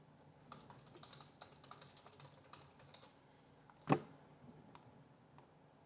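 Keys clatter on a computer keyboard during HTML writing, quiet scattered taps in uneven bursts with one sharper louder strike near the end, close and faint in a quiet room.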